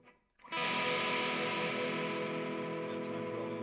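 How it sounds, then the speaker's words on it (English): A semi-hollow body electric guitar from an assembly kit rings out on its treble pickup with a strummed, sustained chord that starts abruptly and slowly fades as the volume knob rolls off, loud and steady with no talking. "We can hear our volumes rolling off."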